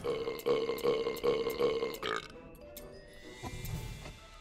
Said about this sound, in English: If you pick easy mode, it burps.